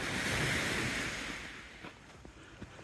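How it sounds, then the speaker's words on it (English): Ocean waves roll onto a wide open beach, a broad wash of surf loudest at the start that fades over a few seconds, with some wind buffeting the microphone. "Nice relaxing walk down by the waves."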